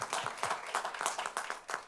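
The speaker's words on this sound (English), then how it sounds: "Oh, you can give that a nice round of applause." A small group clapping in quick, uneven bursts at a St. Patrick's Parade committee art exhibit, a short round of applause heard close and moderately loud.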